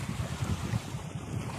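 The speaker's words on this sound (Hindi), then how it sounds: "यहाँ पर आप देख सकते हैं पानी किस तरह से लहर मार रहा है।" Floodwater surging in waves past a village bridge, a steady churning rush with rhythmic low swells and gusty wind buffeting the microphone, no voices.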